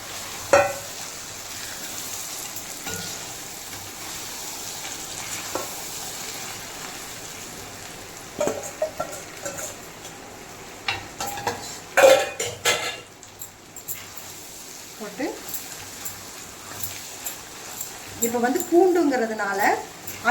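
Garlic pickle is stirred in a heavy-bottomed pan, with intermittent metal spoon scrapes and clanks over a faint frying hiss, growing busier toward the end while a person talks throughout.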